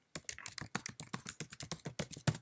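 Fingers type on a computer keyboard in a quick, steady run of sharp, close key clicks, about a dozen strokes, with no talking.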